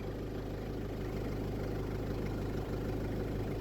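A farm vehicle engine idles close by with a steady, even low rumble and faint mechanical vibration, unbroken and with no voices.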